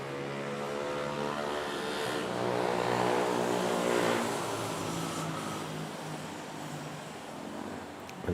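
An airliner taking off at Manila Airport, a sustained jet roar with droning engine tones that builds toward the middle, then slowly fades as it climbs away.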